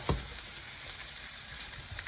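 Onions fry in a pan for a Punjabi-style rajma, a faint steady sizzle and crackle with a brief stir at the start, no voices.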